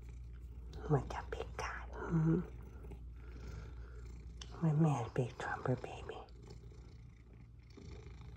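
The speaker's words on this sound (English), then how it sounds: "And they're purring. The purrs were low." A big cat purring low and steady in the background while a person speaks softly and affectionately to it in bursts, the purr a faint continuous rumble beneath the voice.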